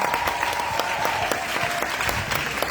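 A church congregation at an Easter celebration service in Grand Bassam claps together, a lively steady round of many hands with rhythmic accents and faint voices beneath.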